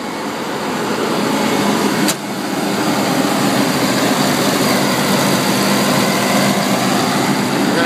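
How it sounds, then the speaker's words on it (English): A Volvo L160 wheel loader's engine runs steadily at a constant drone, close and loud, with one brief click partway through and no talking. "What we're selling today is a Volvo L160 wheel loader"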